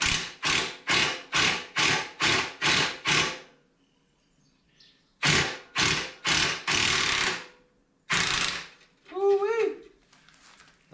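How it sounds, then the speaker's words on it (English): An impact wrench works a tight exhaust clamp on a Triumph Rocket 3 Roadster motorcycle, sounding in a rapid run of sharp hammering bursts, a pause, then further bursts, close and loud, with a short whine near the end. "busted out the impact for that one"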